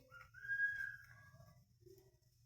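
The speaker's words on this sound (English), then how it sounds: "Go away with your little fake ass whistling." A soft, faint whistle with a few short pitched notes, one held longer, over a low background hum.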